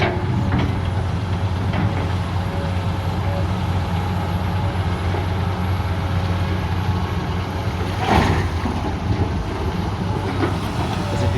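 A Kubota M108S tractor engine runs at high power in a steady, loud, low droning roar with a constant rumble, and one brief louder rattle partway through.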